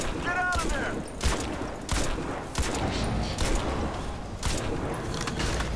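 Dense bursts of automatic gunfire from the shooter game Crysis 2, with rapid volleys and sharp cracks running steadily through the stretch, loud and close, along with bits of game effects.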